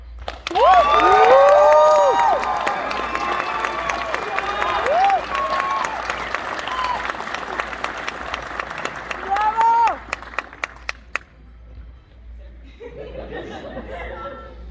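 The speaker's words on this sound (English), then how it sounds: "Please join me in a round of applause for our huge accomplishment." A graduation crowd at a 2022 high school ceremony bursts into loud applause and cheering with shouts and chatter, the clapping thinning into scattered claps before fading to quiet murmur.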